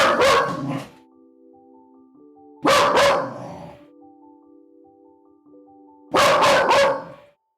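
A puppy barks in three separate bursts of quick, high yips, loud and close. Between the bursts there is near silence, apart from a soft, steady tone.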